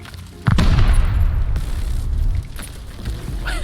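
A satchel charge detonates in a video game with one sudden loud, close blast that rolls into a sustained rumbling, crackling tail that slowly thins out over a few seconds.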